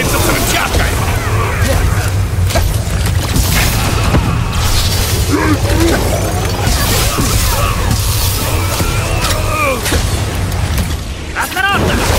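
Explosions and crashing impacts from mines and explosives hurled by a brute enemy during combat in Marvel's Guardians of the Galaxy video game, loud and continuous booms over a dense battle din with character voices talking throughout.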